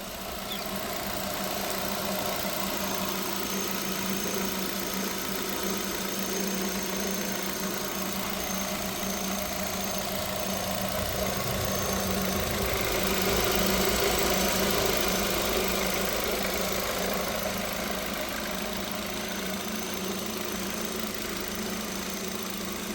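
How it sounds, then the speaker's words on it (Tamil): A 2012 Nissan Sunny XE petrol sedan idles steadily for a long stretch, a close, constant mid-pitched engine hum with a fine mechanical ticking and no voices. "இப்போ நெக்ஸ்ட் நம்ம அந்த வண்டியோட இன்ஜினை ஸ்டார்ட் பண்ணி இன்ஜின் சவுண்ட் எப்படி இருக்குன்றதை காட்டிடலாம்"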